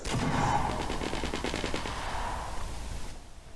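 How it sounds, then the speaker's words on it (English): Rapid automatic gunfire from two players shooting at each other in the video game Fortnite, a dense rattling burst that stays loud and steady for about three seconds before cutting off. "There's two people shooting at each other."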